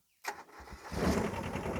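Old Japanese SR-J3 combine harvester engine catching and revving up, starting from silence with a few knocks, then settling into a loud, steady mid-pitched diesel drone.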